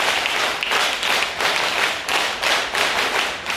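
Audience applause greets Colonel Deepak Kumar at an NCC cadet honours ceremony, dense steady clapping from a crowd that rises and falls in rapid waves throughout, with no talk over it.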